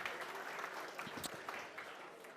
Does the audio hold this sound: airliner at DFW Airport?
no